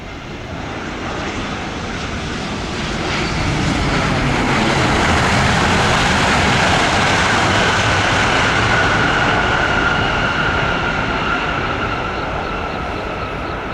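A Vietnam Airlines Boeing 787 touches down on runway 07L at Tan Son Nhat airport, a loud, steady jet roar that swells over several seconds and holds broadband and close, with a rising whine, and no voices.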